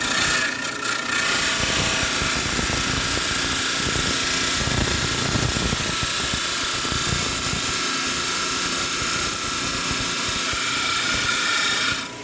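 A rock trim saw grinds through stone in one loud, continuous whine with a gritty rasp that barely changes over about twelve seconds, close up with no talking.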